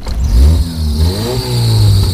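A Honda Accord engine revs hard while being driven off-road, loud and close, with the pitch rising and falling across a couple of throttle pushes and no voices.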